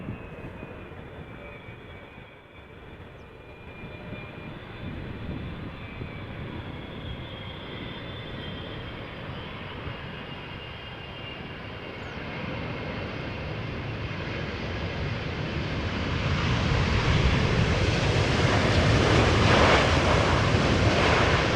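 A brand-new China Southern Cargo airliner arrives from Shanghai at Amsterdam Schiphol, its jet roar rumbling steadily from a distance and swelling louder and broader toward the end.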